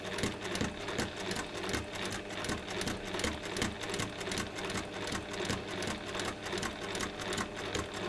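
A sewing machine with a walking foot stitching along a fabric edge, giving a steady, rapid mechanical whirr with an even rhythmic chatter that stays close and moderately quiet throughout, with no talking.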